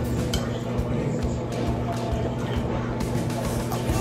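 Macaroni salad being mixed with relish in a bowl, a steady, close rustle of utensils and wet pasta with occasional light clinks, over a constant low hum.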